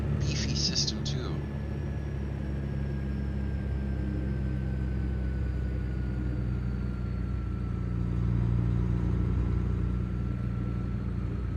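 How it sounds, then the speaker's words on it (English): A truck engine in American Truck Simulator drones steadily at a low pitch throughout, with a faint rising whine and a few brief tones near the start, while a voice talks quietly over it. "that sounds like your old engine"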